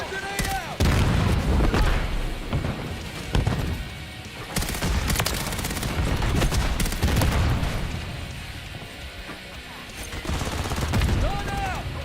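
Call of Duty multiplayer combat: heavy, continuous rattling gunfire mixed with deep booming grenade blasts, loud and dense throughout, with in-game voice callouts faintly heard beneath the chaos.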